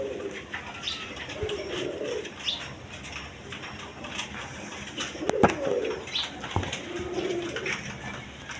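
Pink-beaked male pigeons cooing in repeated low, rolling phrases at close range, with a few wing flaps and light scuffling between the calls.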